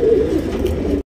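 A pigeon coos in a low, throaty, continuous murmur close by, then cuts off abruptly.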